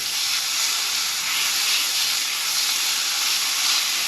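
Pork fillet, floured on both sides, sears in a frying pan with a loud, steady, close sizzling hiss that stays constant throughout.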